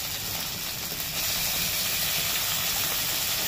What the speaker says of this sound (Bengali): দেখো রসুনটা ভালো করে ভাজা হয়ে গেছে। এবার দিয়েছি পেঁয়াজ বাটাটা।